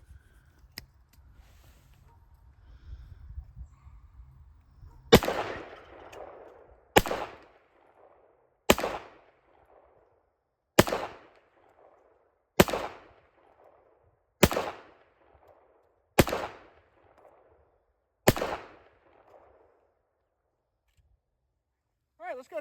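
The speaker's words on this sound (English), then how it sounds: "we'll get down to the range, do a little more shooting with this thing." Eight loud, sharp pistol shots from a GIRSAN MC 1911 S .45 Auto fired at a range with Blazer aluminum ammunition, spaced about two seconds apart, each with a short echoing tail, following some brief low rumbling.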